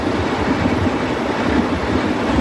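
A continuous low rumble of a long-distance Australian passenger train running on rails, steady and loud, with a dense rolling roar and no voices.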